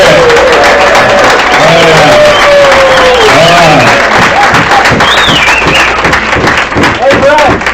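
Audience applause at a 50th high school class reunion, a dense, loud wash of clapping that fills the room while voices talk and call out over it.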